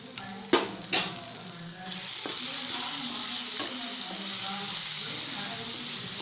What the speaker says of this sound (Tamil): ட்ரையாகிற வரைக்கும் வதக்கிக்கோங்க.